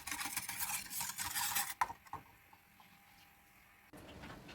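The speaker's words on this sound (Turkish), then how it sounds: "Koyulaşıp kaynayana kadar sürekli karıştırarak pişirelim." A spoon scrapes and swirls around a pot of thickening pudding in quick, busy strokes, then pauses, leaving a quiet hum before stirring resumes briefly.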